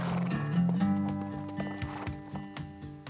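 A horse's hooves clip-clop in a quick, uneven run of knocks, moderately close, set against a steady tonal bed of background music.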